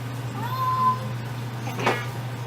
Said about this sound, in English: Ollie, my cat is stuck in the tree and I can't get him down.